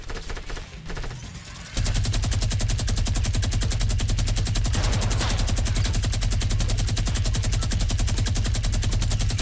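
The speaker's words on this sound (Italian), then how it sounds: "Senti, io sparo, eh." Gunfire in the Fortnite video game: after a brief quieter lead-in, a loud, continuous rapid burst of automatic weapon fire hammers on without pause.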